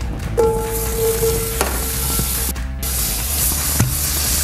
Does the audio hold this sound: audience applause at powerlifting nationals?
no